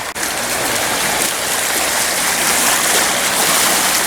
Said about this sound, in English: I'll show you these waves. They're really kicking up.